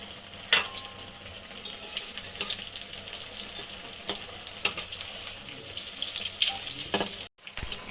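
Vegetables deep-frying in hot oil for a restaurant-style dish, giving a steady crackling hiss that runs almost throughout with a few sharper pops, then cuts off abruptly near the end; no one speaks.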